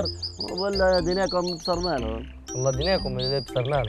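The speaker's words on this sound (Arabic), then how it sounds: "هذا صوت البلبل." A bulbul sings in short, bright chirping phrases high above a voice, the birdsong repeating close by while people talk over it.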